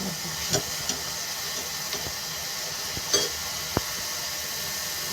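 Green garlic sabzi sizzles gently in a pan over a low gas flame, a soft steady frying hiss broken by a few light clicks and spoon taps, with a quiet voice now and then.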